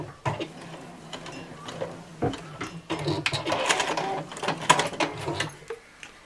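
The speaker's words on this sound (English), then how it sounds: "So we just sew the side seam." A sewing machine stitches the side seam of a reusable fabric bottle carrier in quick whirring bursts with short pauses, fairly close and without talk.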